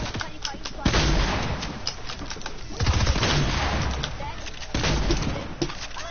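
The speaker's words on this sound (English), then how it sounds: "look at this hand cannon, I haven't used one in ages" Hand cannon gunfire in a shooter video game rings out as repeated sharp shots and bursts amid busy game noise.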